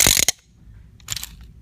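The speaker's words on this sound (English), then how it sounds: "This is a ratchet." A hand-cranked ratchet percussion instrument gives one short, loud burst of rapid clicks, then after a pause a second, softer rattle of clicks, close by with no voices.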